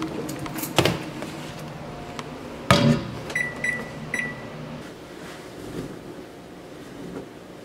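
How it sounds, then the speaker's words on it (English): Two sharp clunks, then three short electronic beeps from a microwave keypad, followed by a low steady hum of the oven running. "let me throw the food in the microwave first."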